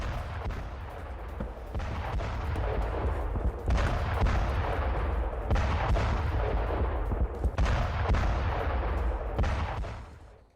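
Israeli bombing strikes a radio station in Iran in a dense, continuous roar of heavy booms and rumbling blasts. The impacts repeat every couple of seconds and sound loud and distorted, like broadcast war footage.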